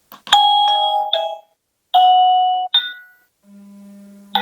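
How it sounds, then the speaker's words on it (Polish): A TP-Link Tapo D235 video doorbell chime rings out clearly in bright tonal notes, pauses, then rings again, followed by a lower steady beep. "Mamy skonfigurowany w pełni dzwonek."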